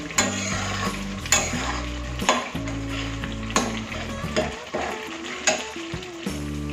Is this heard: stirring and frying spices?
yes